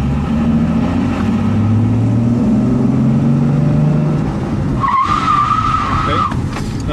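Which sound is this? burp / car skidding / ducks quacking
car skidding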